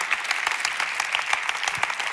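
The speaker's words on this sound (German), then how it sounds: "Lass es Gott für das einen Applaus geben." A church congregation claps during a Sunday service, a brisk patter of many hands with distinct individual claps, moderately loud and without voices on top.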